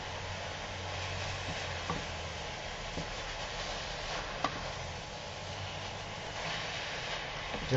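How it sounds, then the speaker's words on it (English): Spinach sautés in a pan for a Greek-Indian spanakorizo with basmati rice and onion, giving a steady, moderate sizzle with light stirring scrapes and a few soft clicks throughout, with no talking. "Just a little bit of sauté for the spinach."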